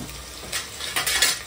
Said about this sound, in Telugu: కరిగి ఉల్లిగడ్డ వేసుకున్నాం ఫస్ట్ నూనె కాగానే